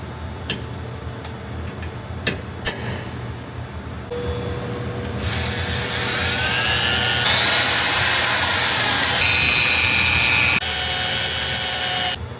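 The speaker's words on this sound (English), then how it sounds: "So we're drilling." A power drill bores holes through the steel frame of a Ford Super Duty truck. A few ticks and taps come first, then a loud, steady whirring with a rising, grinding whine as the bit cuts through metal.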